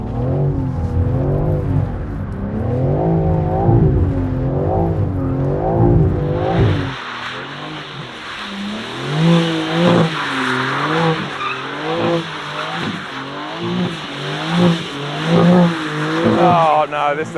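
A 2024 BMW M3 CS drifts with the engine revving hard in a wavering, rising and falling pattern and tires squealing through the slides. The sound is loud and close, and the tire screech grows dense and harsh midway.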